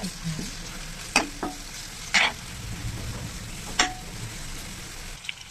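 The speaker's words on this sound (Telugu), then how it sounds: "అల్లం వెల్లుల్లి ముద్ద, కొద్దిగా పసుపు, కొద్దిగా వీటిని బాగా కలుపుకోవాలి. ఆయిల్లో కలుపుకోవాలి." Green chili, ginger garlic paste and turmeric are stirred in hot oil for a potato tomato curry, a close, steady sizzle with a few sharp scrapes of the spoon against the pan, no voices.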